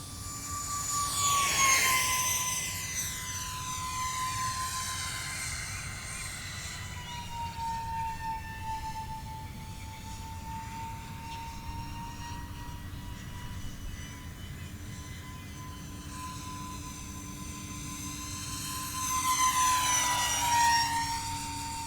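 An E-Flite Micro B-2 Spirit with twin 30mm electric ducted fans, landing gear off, flies at full throttle. Its steady high whine sweeps in pitch as it passes close, drops away, then roars back in a second pass, with no voices.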